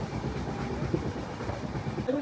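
A train travels from Navsari to Surat, heard from on board as a continuous low rumble with soft rhythmic clatter of the wheels and a brief squeal near the end.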